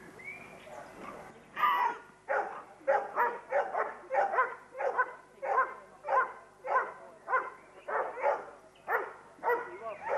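An Airedale Terrier barks during a protection exercise, loud and close, in a rapid rhythmic series of roughly twenty deep barks and yips with no pauses.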